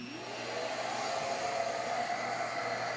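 Shaper Origin handheld CNC router cutting wood with a 1/16-inch bit, a steady close whine with a rising tone at the start, continuous and alone without talk.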